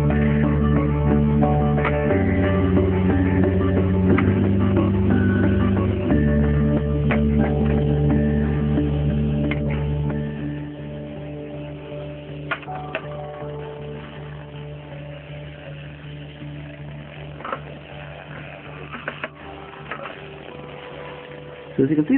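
A toothbrush bristlebot's small vibrating motor runs off a battery, giving a steady close buzzing hum with a few clicks and taps, while a person talks over it.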